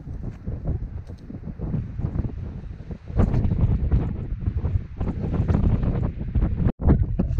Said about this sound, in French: Il y a tellement de vent que j'en perds l'équilibre